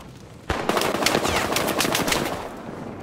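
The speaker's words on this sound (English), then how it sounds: "Oh no, I'm getting shot." Automatic gunfire in the video game Battlefield Hardline, a loud rapid burst of machine-gun shots starting abruptly and rattling on for a couple of seconds before fading, with no talking.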